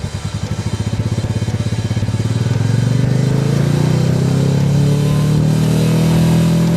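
A Royal Enfield Meteor 350 motorcycle engine pulses at a thumping idle, then is revved up and held at a higher steady drone, loud and close, with no talking.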